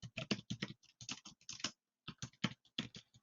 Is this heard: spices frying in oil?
no